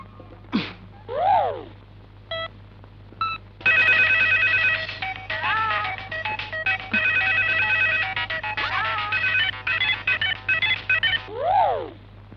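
A phone rings for a call in a dramatic scene, with a dialing tone and repeated electronic ringtone bursts and melodic beeps, close and clear, broken by short gaps and swooping effects.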